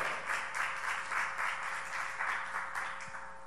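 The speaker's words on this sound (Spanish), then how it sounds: "Dé el aplauso fuerte al Señor." Church congregation applauding during a sermon, a continuous wash of clapping that swells and eases in waves, heard from a moderate distance without speech on top.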